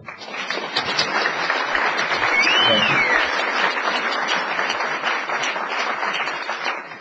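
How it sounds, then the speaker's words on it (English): Sustained applause from an audience, steady clapping filling the whole stretch with a brief whoop or whistle rising midway. "give me a nice round of applause"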